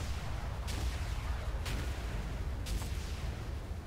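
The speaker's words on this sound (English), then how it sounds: "Gonna shoot some rockets at him." Rockets fire from a tank in a video game, three sharp bursts spaced about a second apart, each a quick whoosh-like crack over a constant low rumbling engine bed.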